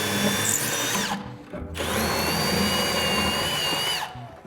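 Impact driver boring 5.5mm holes into soft blocks during window board installation, two sustained whining drill runs close by, separated by a brief pause, each ending as the bit winds down.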